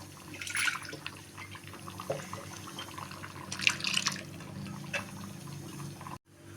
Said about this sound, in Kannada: ನಾನು ಇನ್ನೂ ಸ್ವಲ್ಪ ನೀರು ಹಾಕಿ ತೋರಿಸ್ತೀನಿ